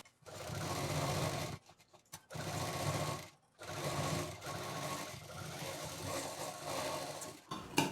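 Sewing machine stitching a fabric exam bag for kids, joining a pocket along its piping edge; steady loud mechanical whirring in bursts of running stitches, with brief pauses between seams.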